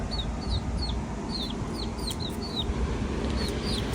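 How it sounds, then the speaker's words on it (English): Aggressive young chickens at the Big Pine Key Supercharger give repeated short rising peeps and clucks close by, over a constant background rumble. "These chickens are very aggressive here in Big Pine Key. They're about to peck my toes."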